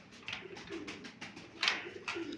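Pigeons in a backyard bird coop coo at feeding time, a run of low rolling coos repeating in short pulses, close by, with a brighter call near the end.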